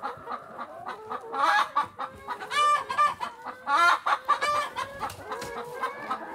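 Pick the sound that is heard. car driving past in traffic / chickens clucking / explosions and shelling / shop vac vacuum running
chickens clucking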